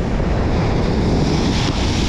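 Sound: storm waves and wind on the Crimean shore

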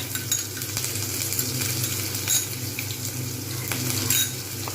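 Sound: ginger garlic paste and spices being fried and stirred

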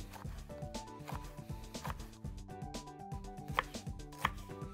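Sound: knife chopping fennel into small cubes

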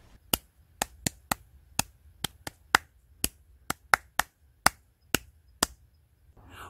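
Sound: hands clapping a rhythm exercise together

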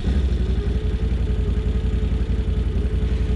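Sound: Can-Am Outlander 850 XT V-twin engine running

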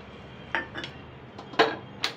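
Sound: spoon adding two spoons of ghee to a pan

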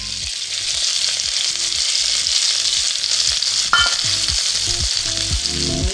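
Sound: mustard seeds and garlic frying in hot oil for brinjal curry

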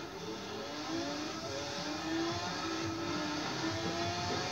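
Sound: Chevelle car engine revving in Forza video game

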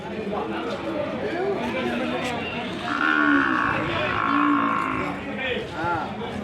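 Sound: young calves mooing at cattle market

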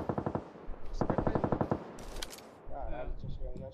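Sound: gunfire in a video game

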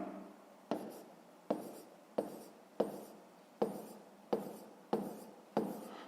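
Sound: writing numbers during a maths exercise

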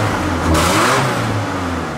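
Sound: Ford Raptor truck engine running after restart

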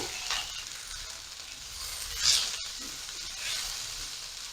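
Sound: cashews being stirred in a hot pan

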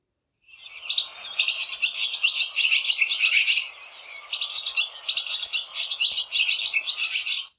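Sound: swallow singing

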